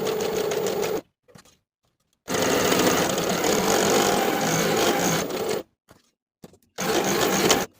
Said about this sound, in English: Sew with a 1/2 inch seam allowance starting at the bottom of one short edge